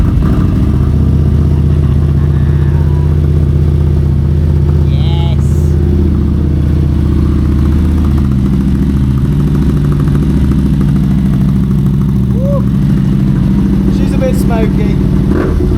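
A Harley-Davidson motorcycle, unrun for months, runs steadily with a low rumbling engine throughout, loud and close, with faint higher noises over it.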